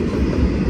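An Istanbul metro train rumbles past close by, a steady heavy low roar with no break for under a second.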